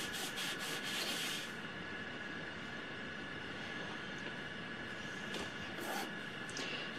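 Quiet rubbing and wiping on a gel printing plate as it is cleaned, a soft continuous scrubbing texture with a few brief brighter swipes near the start and around the middle and end.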